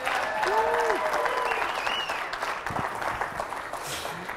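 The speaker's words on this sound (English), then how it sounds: "You get a big round of applause," A crowd at a live magic comedy show breaks into loud, sustained applause, continuous clapping filling the room with some cheering and voices mixed in.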